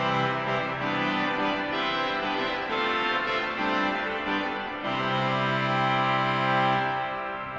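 Swell trumpet reed stop of the Gloucester Cathedral pipe organ played with the swell boxes opened, a bright sustained brassy chord that holds steadily, shifts harmony a few times and swells slightly louder, alone without talk.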